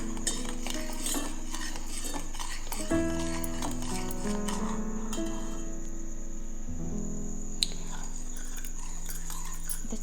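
A spoon clinks and scrapes against a pot while lemon pickle is stirred with melted sugar and salt, giving intermittent metallic taps over a faint background hum, with no talking.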